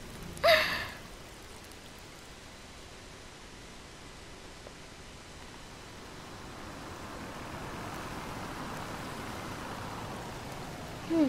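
Steady rain falls in the video game Detroit, a soft, even wash of noise that thickens toward the end, with a couple of short louder bursts near the start and finish.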